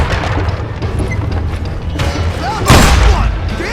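Booming gunfire in the western shooter game Call of Juarez Gunslinger: loud, dense shots with a heavy blast near the end, over continuous game noise.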